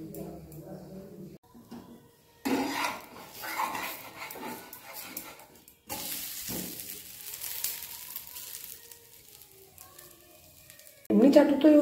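Rice and lentil batter with ginger-fennel paste cooks on a nonstick pan, giving a soft, patchy sizzle in bursts. Someone talks over it at times.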